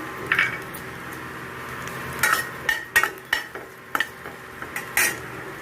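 Light clinks and scrapes of a spoon in a pan over a low, steady hiss of chillies, curry leaves and asafoetida frying in oil, with a few sharper bursts of crackle.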